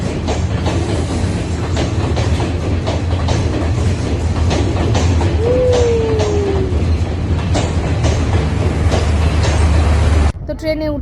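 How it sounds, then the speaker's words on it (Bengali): A train pulls into Ella railway station in Sri Lanka, a loud steady rumble of wheels and carriages with clattering beats and a brief squeal, voices nearby, ending abruptly. "এই যে আমাদের ট্রেন চলে এসেছে।"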